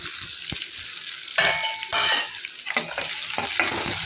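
Chopped onions sautéing in hot oil, a loud continuous sizzle broken by repeated clattering stirs and scrapes of a spoon against the pan.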